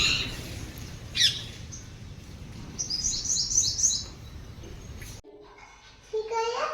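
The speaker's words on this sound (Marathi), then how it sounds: "तीन पोपट बसलेत एकाच जागी" Three parrots squawk and chirp loudly nearby in short harsh bursts, with a faint childlike voice in the background and a brief quieter gap before more calls.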